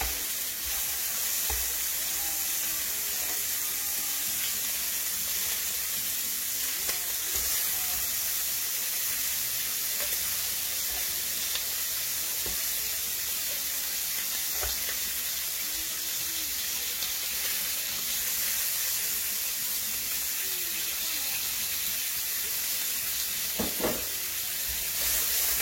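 Shrimp sizzle steadily while frying in a pan, a continuous loud hiss and crackle with occasional spatters and light stirring.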